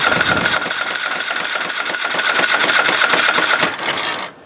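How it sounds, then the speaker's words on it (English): A GT5000 lawn tractor engine cranking in a steady, loud, fast-pulsing churn that runs without a break for about four seconds, then cuts off abruptly near the end. "So come down here to there, and then this to give it crank."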